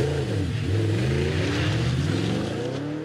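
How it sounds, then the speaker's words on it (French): Audi R8 V8 engine revs hard and close, a loud, continuous rising and falling roar for about three seconds with no voices. "Une symphonie pour bielle et piston enivrante qui invite à prolonger la balade"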